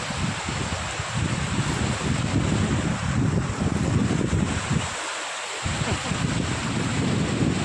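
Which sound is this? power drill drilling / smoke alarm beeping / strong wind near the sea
strong wind near the sea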